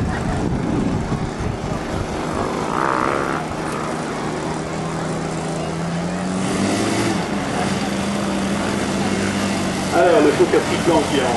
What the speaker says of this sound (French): alors le Fokker Strickland qui est en phase d'approche.